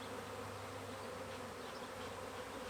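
Honeybees buzz in a steady, dense drone during a hive inspection, with the swarm close and constant but fairly quiet throughout.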